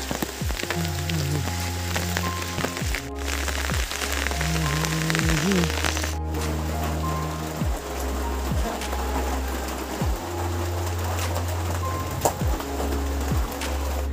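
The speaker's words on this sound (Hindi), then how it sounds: "अभी मैं घर लौट रहा हूँ और बारिश चकाचक हो रही" Steady rain patters on a surface, with a low droning engine-like hum and periodic rhythmic swishes, no voices.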